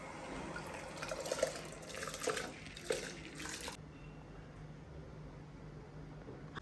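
Parboiled rice is washed in water with continuous sloshing and trickling, close and quiet, with a few soft clinks. After a few seconds the sound drops to a quieter watery hiss.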